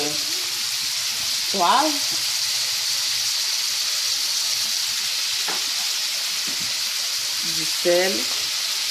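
Minced meat and mixed macedoine vegetables sear in hot oil in a pan, a steady, bright sizzle throughout with brief clinks and someone speaking French over it.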